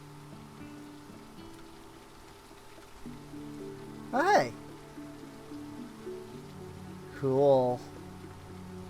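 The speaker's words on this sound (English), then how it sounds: "Oh, yep, it's raining." Rain patters steadily and softly in the video game Teddy's Haven, a constant light hiss under game music, with someone briefly talking over it twice.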